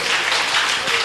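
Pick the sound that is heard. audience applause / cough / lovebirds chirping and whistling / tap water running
audience applause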